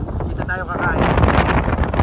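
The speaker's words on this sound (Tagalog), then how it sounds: "Kung makikita nyo, ang lakas ng hangin." Strong wind buffets the microphone on an island beach with rough, whitecapped sea, a steady loud roar and rustle throughout, with a brief whistling tone near the start.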